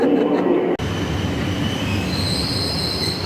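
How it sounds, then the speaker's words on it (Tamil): An Intercity high-speed train arrives at Frankfurt station with a loud, continuous rumble of wheels on rails, a sharp break partway through, then steady rolling noise with faint squealing tones. "இன்டர்சிட்டி என்ற ட்ரெயின் வந்து கொண்டிருக்கின்றது."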